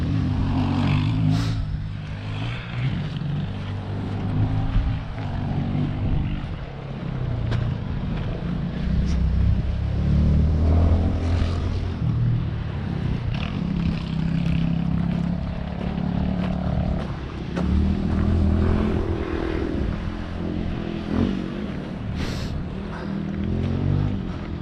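Motorcycles on the Skyline Drive near the ruins of Beek's Place, their engines rumbling loud and steady at low pitch and rising and falling as they pass, with wind buffeting the microphone throughout.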